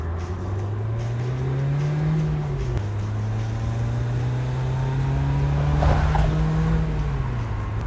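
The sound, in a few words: 1996 BMW Z3 roadster engine accelerating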